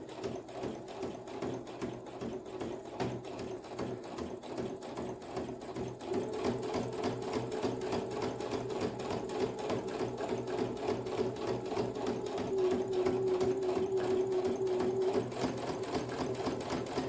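A sewing machine stitches a fabric bookmark with a rapid, even mechanical chatter that runs continuously, close and moderately quiet, growing slightly louder partway through.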